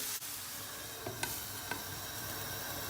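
Onions sauté gently in a pan with a steady soft sizzle, punctuated by a few light clicks of a utensil stirring.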